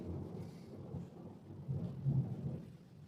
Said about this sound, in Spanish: Ahí, wow, mirá qué trueno.